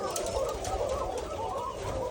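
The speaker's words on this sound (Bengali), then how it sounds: "এগুলো হচ্ছে আমার অরিজিনাল কোকা কবুতর।" Koka pigeons coo softly in a low, continuous murmur of several birds close by, faint and steady with no clear voices.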